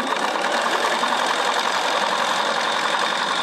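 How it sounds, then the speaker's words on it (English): A sewing machine stitching backwards in reverse while patching jeans, a steady fast mechanical whir and rapid needle chatter held at an even, close-up level throughout. "it just sews backwards without her having to hold the reverse back."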